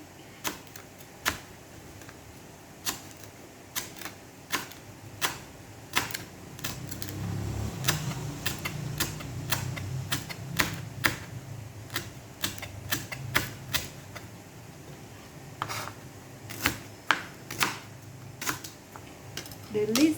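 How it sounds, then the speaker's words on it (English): A knife chops lemongrass on a cutting board in sharp, irregular taps spread across the clip. The taps are close and crisp, with a quieter rumble underneath and no talking. "You can cut lemongrass this way if you want to."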